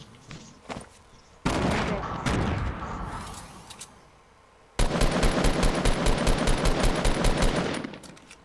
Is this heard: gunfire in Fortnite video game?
yes